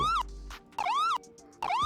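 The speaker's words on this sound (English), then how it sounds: "So that's like the stock siren sound, right?" Stock police siren from the LSPDFR mod for GTA V, a wailing electronic tone that sweeps up and down in three repeated bursts separated by short gaps, clear and alone.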